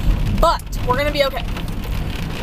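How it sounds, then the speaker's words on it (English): Heavy rain drums steadily on a car while it merges onto a highway, a constant loud wash of noise throughout, with a person briefly speaking over it. "It's raining outside. It's, like, real loud and dark and kind of scary."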